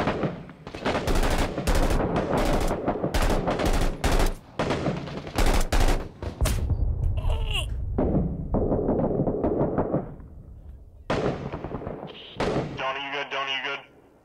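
Gunfire in the video game Six Days in Fallujah: sharp bursts of automatic fire and single shots crack in rapid clusters, loud and close, with players talking over the shooting between bursts.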